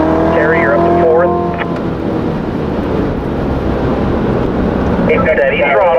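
Car lapping the Spring Mountain Motorsports racetrack during a performance driving school session, a loud steady engine drone with wind rush, while an instructor's voice talks over it throughout.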